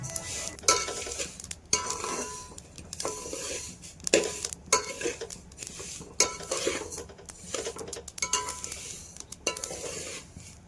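Roasted sesame seeds stirred in a pan taken off the gas, with repeated scraping, rattling strokes of a utensil against metal in an irregular rhythm, close and alone.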